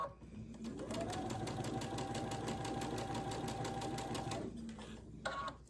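A sewing machine runs steadily as quilt blocks, placed right sides together, are joined with a quarter-inch seam, a close continuous rapid stitching whirr lasting several seconds, then slowing to a stop with a click.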